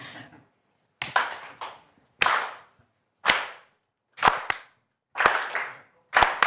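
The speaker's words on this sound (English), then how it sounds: "let's clap together" Sharp claps land about once a second in a slow, steady rhythm, each a crisp burst from several hands, with silence between.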